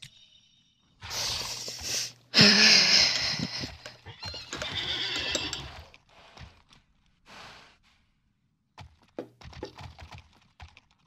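Horse neighs in the Alicia Online video game, a couple of loud whinnies amid short clicking bursts like keyboard typing, with quiet gaps between.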